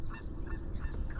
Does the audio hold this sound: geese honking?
yes